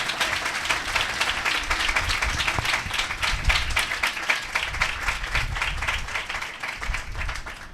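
A church congregation claps during a Sunday service sermon. The applause is sustained and even, with many hands clapping steadily and a low rumble of crowd noise underneath, holding for several seconds.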